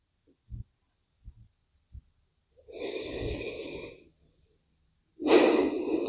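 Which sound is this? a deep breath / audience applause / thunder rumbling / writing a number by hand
a deep breath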